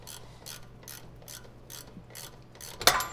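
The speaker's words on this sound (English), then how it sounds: "sometimes these bolts hang up on the threads and just don't really want to come all the way out" A bolt is worked out of the frame of an 80 Series Land Cruiser, giving a steady run of regular ratchet clicks, close and moderate, ending in a sharp metallic clack as it jerks free.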